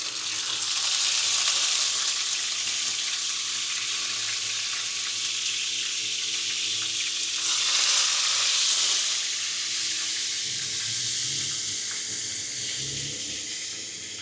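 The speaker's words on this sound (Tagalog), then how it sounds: "Tapos pwede na natin i-fry." Marinated cream dory fish pieces fry in hot oil with a steady, close, crackling sizzle that swells briefly midway, with no talking.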